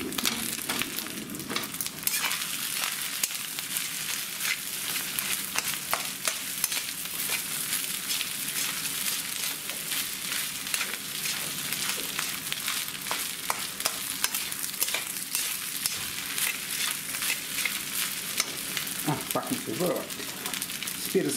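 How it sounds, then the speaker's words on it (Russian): Rice and egg stirred together in a hot frying pan, with a steady sizzle and scraping of the spatula running throughout, fairly close and continuous. "Быстренько все это дело перемешиваем, чтобы рис у нас соединился с яйцом."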